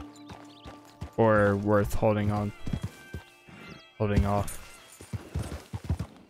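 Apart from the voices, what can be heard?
horse hooves in Red Dead Online video game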